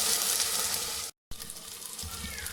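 A short burst of loud sizzling as ginger-garlic paste fries in a clay pot, cut by a brief silent gap before the sizzle resumes.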